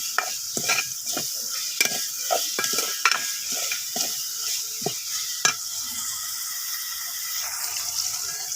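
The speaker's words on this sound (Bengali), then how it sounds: "এই যে আমার মশলাগুলো বাজানো হয়ে গেছে" Spices sizzle and fry in a pan for a home-cooked noodle dish, with repeated close scraping and stirring strokes over a steady hiss.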